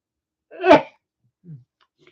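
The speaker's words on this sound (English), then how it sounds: "It's a morning sneeze, I guess." A single loud morning sneeze close to the microphone, a short sharp burst followed by a faint low breath.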